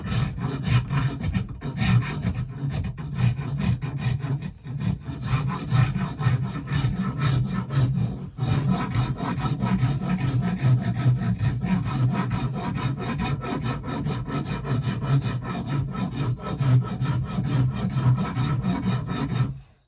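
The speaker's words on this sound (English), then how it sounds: "See how I'm rolling that rasp? Yep. Following the contour of that." A rasp files and shapes a wooden axe handle in a long run of steady, close, rough rubbing strokes, almost without pause and with no voice.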